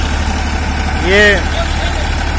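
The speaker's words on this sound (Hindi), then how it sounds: "दूसरा मैसी फर्गुसन का 241 ट्रैक्टर है, ये देखिए आप।" Two Massey Ferguson tractors, one a 241, pull a trolley loaded with 125 sacks of potatoes. Their engines give a steady, even drone throughout, with someone talking over it.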